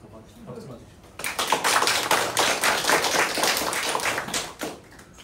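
A congregation applauds during a church service, with a dense patter of clapping that starts abruptly, holds steady for several seconds, then tapers off near the end.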